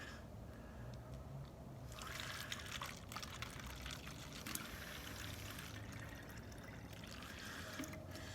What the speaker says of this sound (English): Let me pour a little bit into here just so we can see the coloration of what this looks like.